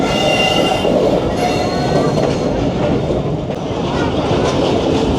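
The Rawalpindi Passenger train running on the line toward Havelian, heard from onboard as a loud, continuous rumbling roar of wheels on track with faint metallic squeal overtones, steady throughout.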